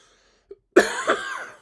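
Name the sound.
cough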